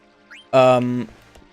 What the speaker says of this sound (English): Dedicated meow button.